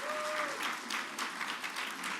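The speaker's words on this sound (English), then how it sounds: "Let's give them a round of applause." A short burst of steady applause from a crowd at a governor's bill signing, clapping evenly throughout.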